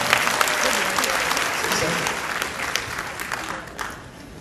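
Audience applause welcoming a pastor at a patriotic rally in a convention hall at the 63 Building, a dense, steady wash of many hands clapping that fades slightly toward the end.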